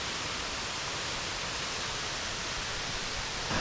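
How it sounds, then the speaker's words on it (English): Nevada Falls at Mount Rainier, a steady dense roar of cold falling water, close and constant with no break, alone without voices. "So we're looking at Nevada Falls."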